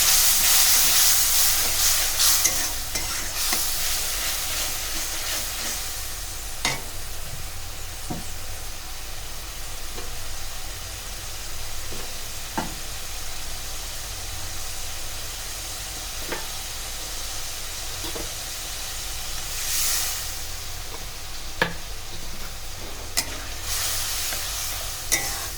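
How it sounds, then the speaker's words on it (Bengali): Garlic and dried chili spice paste stir-fries in a hot pan for a Bengali kochur loti dish with chepa shutki, a steady close sizzle and hiss broken by sharp scraping clacks of the spoon against the pan. "এরপরে যে মশলাটা করে রেখেছিলাম রসুন আর শুকনো লঙ্কা ওইটা দিয়ে দিলাম। দিয়ে এবার ভালো করে মশলাটাকে আমি কষাবো।"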